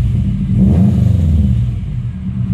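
A 2004 Subaru WRX STI engine revs up, a loud, close, low-pitched rumbling surge that swells and then holds steady for a couple of seconds.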